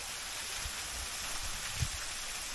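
Shancha waterfall rushes as a steady, broad roar of falling water, continuous and moderately distant, with no voices.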